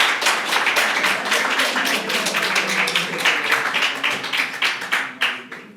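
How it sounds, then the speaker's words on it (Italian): An audience at an academic conference on Dante applauds a speaker with a sustained burst of clapping that holds steady for several seconds, then thins into scattered claps as it dies away. "So a warm applause for having her here"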